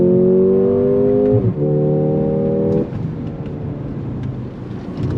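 A 2024 Mercedes-AMG GLA 35 launches from a race start, its engine droning loud and close with rising pitch before an upshift drops the tone and acceleration continues, with no talking heard.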